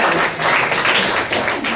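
Audience at a spiritual talk clapping, loud and close, a dense burst of many hands with slight surges in intensity across a couple of seconds.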